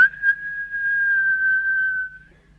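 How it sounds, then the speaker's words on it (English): A single shrill, steady whistle held for about two seconds, close and loud, then fading out. "He pushed it open and gave a shrill whistle."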